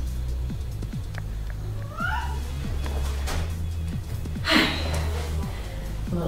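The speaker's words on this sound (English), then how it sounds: "Cat visitor here." A cat visitor meows once or twice, fairly faint, over a steady low hum and scattered light clicks and rustles, with a brief louder breathy burst near the end.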